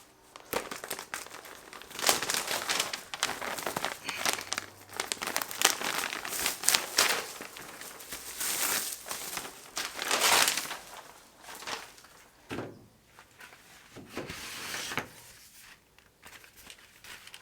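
Plastic packaging being cut and torn open with a Benchmade knife, giving close, irregular crinkling and crushing bursts that come and go over the span, with a few sharper tearing moments and no talk.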